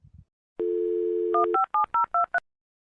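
A phone dial tone is held for about a second, followed by a quick run of six or seven touch-tone keypad beeps dialing a call, close and clear with nobody speaking.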